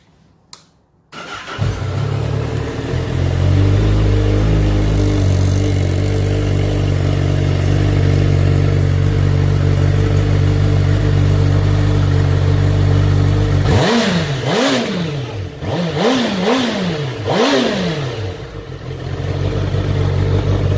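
A 2017 Honda CBR1000RR with its old exhaust muffler fired up close by: a sharp start, then a loud steady idle for several seconds, followed by a series of quick throttle blips rising and falling before settling back to idle.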